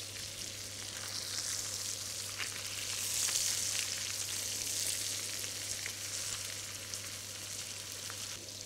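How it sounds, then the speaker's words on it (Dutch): Spring ham browning in butter in a frying pan gives a steady, close sizzle and crackle of frying fat, holding at an even level throughout with no talking. "in die boter mooi goudbruin aanbraden"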